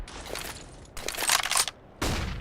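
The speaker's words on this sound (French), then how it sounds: "On tire sur le coin de la vitre." Three sharp bursts of video game gunfire aimed at a window corner on the Nuke map, each a bright crack with brief ringing tail, spaced about a second apart with no talk.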